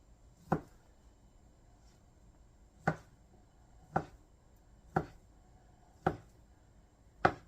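A knife dices bologna on a cutting board, with six sharp, separate chops spaced irregularly about a second apart against a quiet room.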